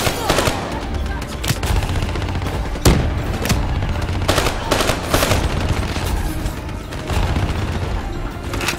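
Dense gunfire from the Call of Duty Black Ops 3 video game, with rapid automatic bursts and sharp single shots cracking loudly and almost without pause.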